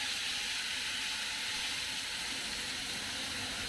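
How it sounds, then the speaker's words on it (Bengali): Cashews and fried onions going into hot oil spiced with cardamom, cinnamon and bay leaf in a wok, giving a steady, even sizzle and hiss that stays constant throughout with no talking. "এবার আমি এই যে কাজু এগুলো পেঁয়াজ ভাজাটা করেছিলাম এটা দিয়ে দিই।"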